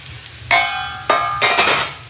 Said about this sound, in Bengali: পেঁয়াজ আর রসুন কুচানোটা দিয়ে দেবো খুব বেশি তেল কেটে গেলে না পেঁয়াজ আর রসুনটা আবার পুড়ে যাবে এটা একটু ভাজা ভাজা হোক